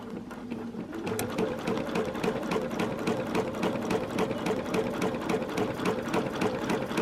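Sewing machine running at a steady pace during free motion quilting, a fast even rhythmic chatter of the needle mechanism, close and continuous without talking.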